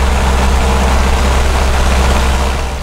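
A Cessna 152 light aircraft's piston engine runs during a carburetor heat check, giving a loud, steady, close-up drone with a deep rumble that holds level throughout, with no voices.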